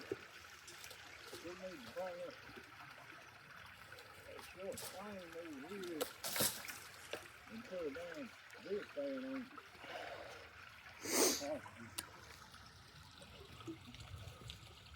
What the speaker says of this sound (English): That's sending some water down.